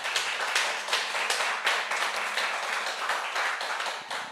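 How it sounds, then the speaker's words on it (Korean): A church lecture audience gives a round of thanks applause for an elder's talk, a continuous wash of many hands clapping at an even level, with no one speaking over it. "우리 한인봉 장로님께 다시 한번 감사의 박수"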